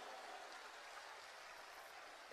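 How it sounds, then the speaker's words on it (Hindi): A large audience at a religious gathering in Bihar claps together in a steady, even wash of faint applause that sounds far off, with no voices heard, until a brief bump at the very end. "तो यहाँ की प्रशासन को एक बार ताली बजाकर धन्यवाद जरूर दीजिएगा।"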